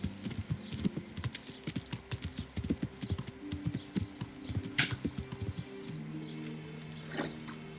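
Horse hooves clip-clop steadily at a walking pace in the medieval game Kingdom Come: Deliverance, a close, rhythmic run of hollow thuds with no talking over it.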